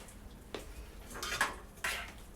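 A mixing bowl handled in a home kitchen while making vegan cheesecake gives a few light clinks and knocks, close by and fairly quiet.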